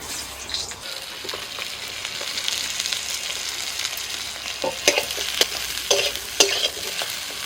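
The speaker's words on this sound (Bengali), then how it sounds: "ওই তেলের মধ্যে আমি ঝিঙেটা ভেজে নিচ্ছি" Ridge gourd fries in a little leftover oil in a wok, with a steady, close hiss of sizzling and occasional scraping and clinks of a spatula stirring it. No one speaks.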